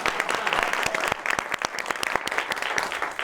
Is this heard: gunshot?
no